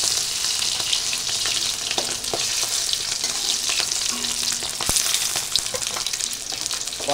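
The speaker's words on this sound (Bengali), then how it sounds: "একটু ডিমটা ভেজে নিই।" An egg fries in a pan with a loud, continuous sizzle and crackle, with a few scattered utensil taps and pops.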